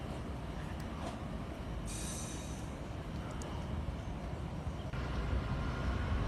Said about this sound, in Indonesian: Lokomotif khusus berwarna merah merupakan penarik rangkaian gerbong kereta api yang melintas di jalur hulu di Pekalongan.